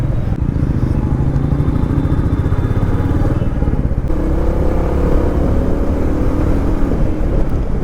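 A motorcycle exhaust snarling from the silencer as the throttle is pulled on an Indian road, loud and close, a steady throbbing engine note that rises and holds throughout.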